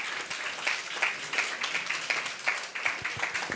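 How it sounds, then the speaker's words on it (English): Dense audience applause for law professor Adedeji at a leadership gathering, a steady wash of many hands clapping throughout, fairly close and with no talk over it. "Would you give him a round of applause?"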